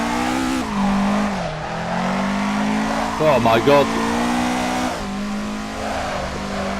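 A BMW M3 drifting in Assetto Corsa, its engine droning and rising in pitch with brief tire squeal midway, loud and close, while a man exclaims over it.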